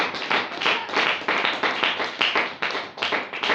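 A church congregation claps together in acclamation, a steady rhythmic run of sharp, close handclaps with no pauses.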